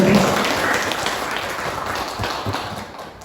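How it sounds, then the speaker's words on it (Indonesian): A crowd applauding steadily, dense clapping that holds for a few seconds and then tapers slightly toward the end. "Boris, tepuk tangan sekali lagi untuk gue."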